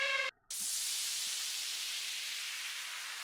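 A synthetic hissing sound effect with gritty mid-range distortion: a short tone, a brief gap, then a broad, loud wash of hiss that fades slowly.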